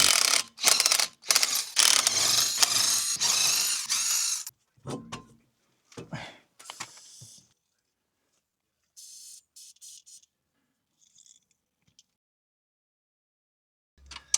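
A ratchet works the 15mm brake caliper bolts on a Ford Transit Connect Mk1, with a dense, loud run of clicking at first, then scattered short clicks and clunks amid quiet gaps.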